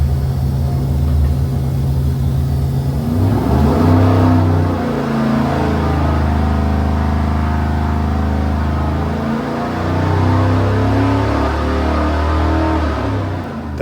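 All-aluminum 427 Chevy V8 on an engine dyno, running a steady loud roar that rises in pitch, dips, then climbs again through a sustained pull up to about 4,500 RPM, heard close and alone.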